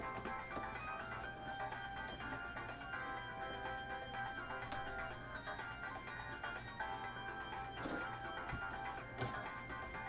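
A sewing machine stitching quilt pieces, a steady continuous mechanical whir and buzz at a constant pace, close and fairly quiet, with no talking.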